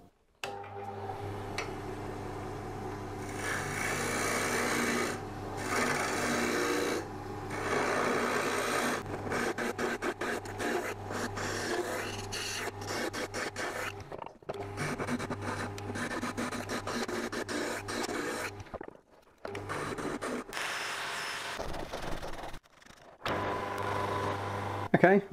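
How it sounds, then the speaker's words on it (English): A wood lathe hollows out a capsule turned from firewood, with the tool scraping continuously and raspily against the spinning wood. The scraping pauses briefly several times and then resumes. "I'm going to pop this back on the lathe, hollow it out a little bit more"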